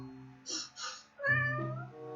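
A cat at a house full of cats gives two short breathy, hissing bursts followed by a long, drawn-out harmonic meow, close by and fairly loud, with no talking.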